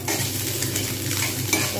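Eggs sizzle and fry in a pan while a utensil stirs and scrapes, a steady close hiss with soft clinks and no voices.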